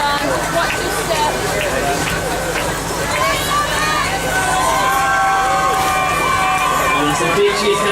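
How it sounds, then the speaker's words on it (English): A crowd cheers and shouts for swimmers reaching the finish of the 2015 Rottnest Channel Swim, a loud, continuous outdoor roar of voices and babble with a speaker talking through it. "Some big cheers coming from the crowd."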